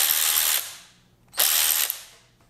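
An AOBEN cordless ratchet whirs loudly in two short bursts, each cut off abruptly by its electric brake, with near silence in between.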